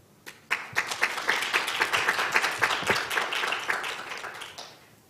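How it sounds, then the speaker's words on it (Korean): A few isolated claps quickly swell into full audience applause welcoming a speaker to the podium at a youth forum on peace and sustainable development, holding steady before thinning out. "큰 박수로 연단위로 모시겠습니다."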